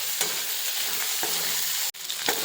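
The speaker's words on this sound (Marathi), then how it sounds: "त्यांना फ्राय करत असताना त्यात थोडंसं मीठ आणि थोडी हळद घालायची आणि त्यांना एकदम छान फ्राय करायचे" Bombil fish frying in oil in a pan with salt and turmeric, a steady close sizzle with a few stirring scrapes and one brief dropout near the end.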